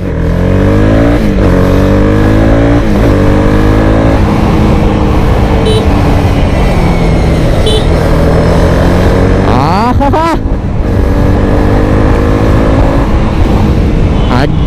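A Honda CB300R motorcycle rides onto a main road, its engine droning loud and close with rising revs through several gear changes and a sharp surge near the end.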